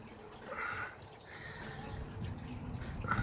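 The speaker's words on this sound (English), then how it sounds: "Just draining the transmission." Transmission oil drains from the 6-speed gearbox of a 2010 Ford FG XR6, a soft, quiet trickle and patter of liquid falling into a pan, close by and fairly faint.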